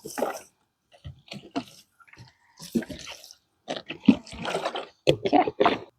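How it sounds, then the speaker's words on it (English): Water splashes from a container onto a wine cap mushroom bed outdoors, coming in irregular close bursts of pouring and spattering with short pauses between, fairly loud and with no talking. "got some more water to moisten the area more"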